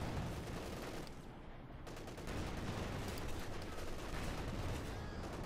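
Panzer IV tank gunfire in the video game Company of Heroes 2 mixes with dense battle noise of rapid shots and bursts, a busy wartime soundscape at moderate level.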